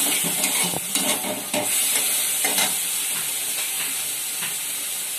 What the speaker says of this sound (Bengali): এবার মাছটা একটু ভাজা ভাজা করে নেবো